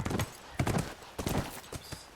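Horse hooves clip-clop in The Last of Us in a steady, close, moderately loud walking rhythm, with a faint low murmur of game ambience beneath.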